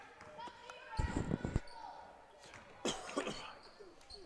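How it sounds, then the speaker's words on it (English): Two short bursts of coughing, close by, separated by a brief pause with light background noise and faint voices, at a girls' basketball game. "I got a cough."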